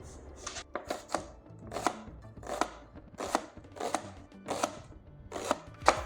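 Young onion being chopped very finely with a knife on a board, a run of crisp, evenly spaced close-up chops, about a dozen over several seconds, with no talking.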